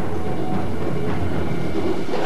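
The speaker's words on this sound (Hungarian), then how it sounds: "Ugyanakkor egy vonat közeledett úti céljához" A train heading toward Ulm in October 1944 rumbles along its rails with a loud, steady, continuous roar and faint rhythmic clatter, and no voices.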